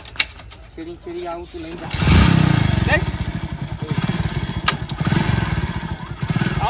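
A motorcycle engine idles and then picks up into a steady, loud throb close by, with people talking over it.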